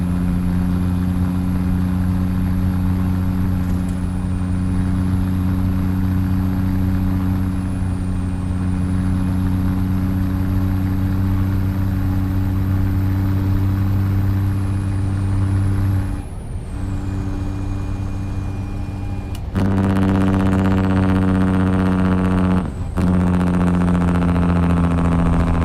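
A Peterbilt 389 truck with a Cummins Big Cam 855 engine idles in a video game, producing a steady, loud, deep rumble with strong low harmonics. A high whine rises and falls over it, and there is a brief dip before the idle resumes.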